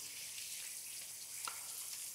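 Fries sizzle steadily in a hot pan while moules frites are cooked, a soft continuous frying hiss with one brief crackle near the middle and no talking.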